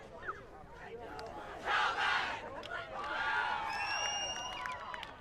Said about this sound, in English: Big cheer there from Kelvin.